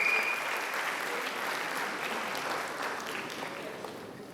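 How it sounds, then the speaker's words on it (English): Applause from a graduation ceremony audience honoring parents, grandparents and siblings, a full round of clapping that starts strongest and gradually fades over a few seconds. "A big round of applause to the parents, grandparents, siblings"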